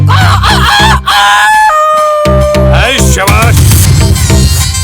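A rooster crows in a loud stretch, its drawn-out, wavering call riding over continuous music with a steady beat.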